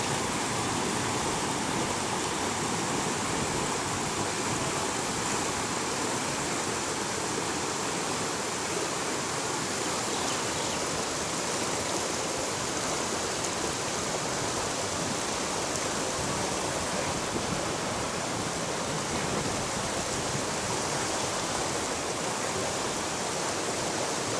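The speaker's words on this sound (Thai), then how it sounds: "น้ำคลอง น้ำทะลักมาเยอะเลย" Loud, continuous roar of floodwater rushing through a canal in Mae Sai, Thailand, a broad steady wash of noise that stays constant without pause.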